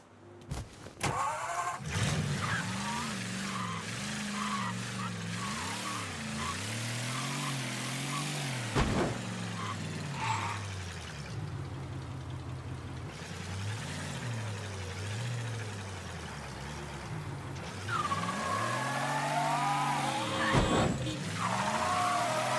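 Car engine in the Mafia 3 video game revving and shifting as the vehicle drives, with rising and falling pitch sweeps, occasional tire skids and a loud steady drone over about twenty seconds.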